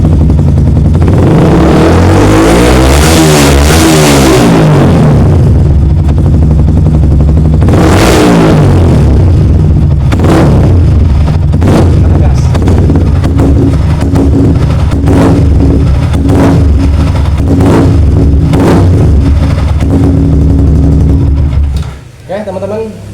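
A motorcycle with an overcharging fault, its charging reaching 18 volts, is started and revved hard, loud and close, rising and falling in a long swell and then a string of sharp throttle blips before cutting off.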